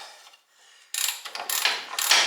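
A socket ratchet turning the screw of a coil spring compressor during a front end rebuild on a 1968 Pontiac GTO A-body, heard as loud bursts of rapid clicking after a brief quiet moment.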